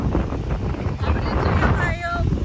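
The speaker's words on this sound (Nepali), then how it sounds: "मिठो हावा चलेछ" Wind buffets the microphone in a steady rush at Mugling, Nepal, with a voice talking briefly underneath.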